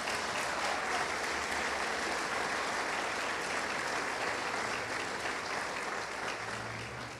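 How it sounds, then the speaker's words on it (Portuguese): A church congregation applauding during a Sunday service, a steady, full burst of clapping that fades slightly at the end. "Pode aplaudir."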